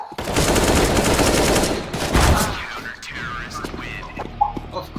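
Rapid bursts of automatic gunfire from a video game, loud and dense for about two seconds, then fading into scattered lighter shots and game effects as the firing stops.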